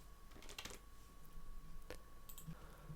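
Typing on a computer keyboard while working in Blender's Python scripting, with a few scattered key clicks and short bursts of keystrokes heard close up over a quiet background hum.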